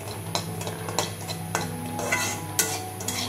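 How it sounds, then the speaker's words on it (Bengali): Semolina being fried and stirred in a pan, with a spoon scraping and tapping the metal in an irregular rhythm over a soft, steady sizzle, heard close with no talking. "একটু সুজি ভাজছি"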